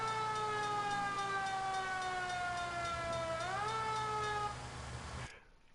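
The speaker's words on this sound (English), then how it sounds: "How cool is that siren, though?" A steady electronic siren in the video game L.A. Noire drones with a slowly falling, then briefly rising pitch, loud and continuous before cutting off abruptly.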